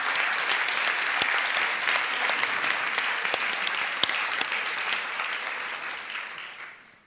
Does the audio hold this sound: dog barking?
no